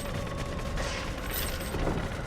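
Rapid rocket explosions tear into clusters of zombies in Choo Choo Survivor, a weaponized train game, crackling as a dense, steady barrage at moderate loudness with no talking.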